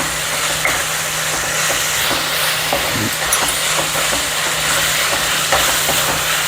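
Tomato curry cooks in a pan with a constant, fairly loud sizzle and steamy hiss, while a spoon stirs through it with soft scraping strokes. No one speaks.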